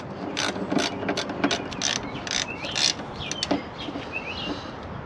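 A ratchet clicks in quick, uneven bursts while snugging a front brake line fitting on a Pontiac GTO, a close, busy series of mechanical ticks with no talking.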